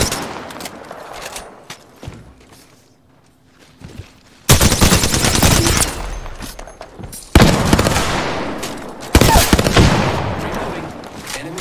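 Enemy gunfire in an Apex Legends match crackles close in dense bursts, broken by a short quiet gap, then returns in heavy rapid volleys that fill the scene.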